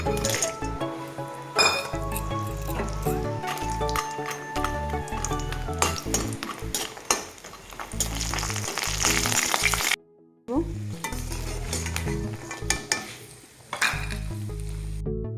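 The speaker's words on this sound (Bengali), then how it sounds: "ডালিবড়িগুলো ভেজে নেব" Lentil dumplings (dal bori) fry in mustard oil alongside busy kitchen clatter: metal utensils clink and scrape against the pan over a continuous sizzle, with one short gap of silence partway through.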